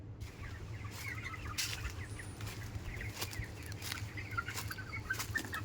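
Many chickens cluck and chatter continuously on a poultry farm of about 20,000 birds, with occasional wing flaps and a steady low hum underneath.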